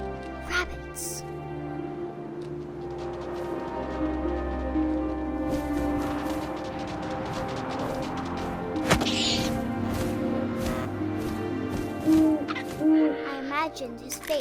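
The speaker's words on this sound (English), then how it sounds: "And suddenly, I was an owl." An owl hooting in the video game What Remains of Edith Finch, with repeated tonal hoots over a steady ambient bed, accompanied by scattered thumps and clicks, fairly loud and continuous.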